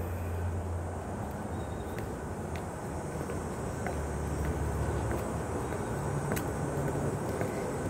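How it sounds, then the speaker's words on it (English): Steady road traffic from a busy road behind a residential backyard, a constant distant rushing drone of passing cars with no talk. "you might hear some road traffic. That is Bitters Road, which is kind of a busy road"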